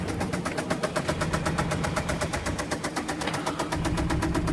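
A Ford Transit Connect diesel engine knocks, a fast, steady rhythmic clatter over a running idle, close and continuous, with no talking.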